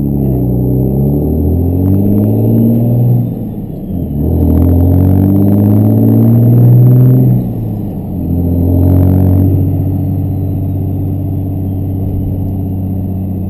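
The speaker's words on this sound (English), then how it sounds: "Nice ride along in a probably 800 horse to the wheels truck." From inside the cab of a twin-turbo Cummins diesel truck making around 800 horsepower, a loud, deep engine drone rises and falls through the gears on the move, with a couple of dips and surges in pitch.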